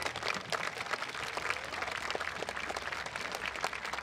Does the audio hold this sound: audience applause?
yes